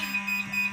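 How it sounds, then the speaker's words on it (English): A fire alarm sounds with a steady hum beneath repeated high electronic beeps, fairly loud and close, with no talking over it. "is that a fire alarm?"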